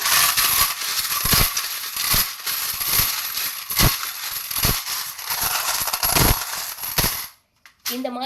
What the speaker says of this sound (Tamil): லக்ஷ்மி தாயாருக்கும் குபேரருக்கும் இந்த மணி ஓசையை காட்டிலும் இந்த நாணயங்கள் மூலயமா வர ஓசைங்கிறது ரொம்ப பிடிக்கும்